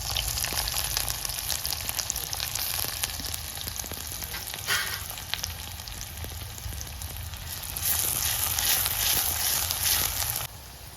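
Crushed garlic, a green chili and finely chopped onion fry in a pan with a loud, continuous sizzle and crackle, with light stirring scrapes, brief quieter stretches and a swell near the end, and no talking.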